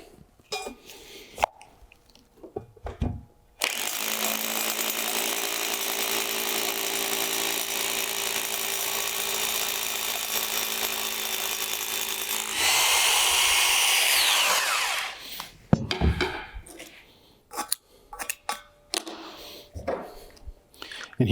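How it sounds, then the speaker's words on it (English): A hammer drill bores into a concrete footing to set a post base mount, a loud steady grinding whir lasting about twelve seconds that shifts to a higher, harsher pitch near the end, with brief knocks and handling noises before and after. "take your hammer drill."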